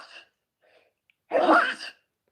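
A single sharp, breathy sneeze bursts out up close after a couple of faint rustles, then silence.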